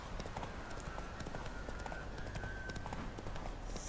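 Horse hooves galloping in The Witcher 3: Wild Hunt, a steady rapid clip-clop rhythm close by over a soft ambient game backdrop.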